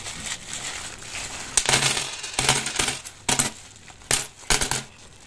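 Silver coins clink and jingle as they are handled, giving several sharp metallic bursts of rattling close by with short pauses between them and no talk over them.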